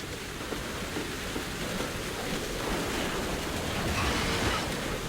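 Steady, even rain hisses without pause in the video game Cold Fear, a dense wash of noise at constant moderate level with no voices.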